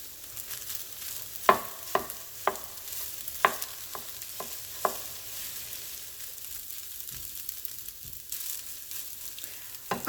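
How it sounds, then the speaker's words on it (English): Kimchi fried rice with carrot stir-fried in a single pan: a soft steady sizzle punctuated by several sharp scraping clacks of a utensil against the pan, with no talking. "It's sauteed, stir-fried, whatever you want to call it."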